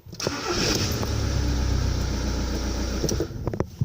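A Seat Ibiza being restarted after a battery change: a brief starter crank catches into a steady, loud mid-pitched engine idle that runs for several seconds before clicks at the end, with no talk.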